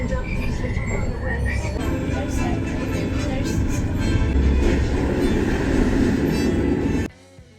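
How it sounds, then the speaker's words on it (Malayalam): A ride train at Universal Studios Florida rumbles along in a steady, close mechanical drone with voices talking over it, stopping abruptly near the end. "അങ്ങനെ നമ്മൾ നെക്സ്റ്റ് സ്റ്റേഷനിലെത്തി. ട്രെയിൻ റൈഡ് കഴിഞ്ഞു."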